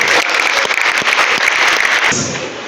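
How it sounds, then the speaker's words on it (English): New students at a university orientation applaud a lecture, a loud, dense wash of clapping close by that fills the room and cuts off abruptly near the end, leaving a softer tail. "So once again, clap for yourself."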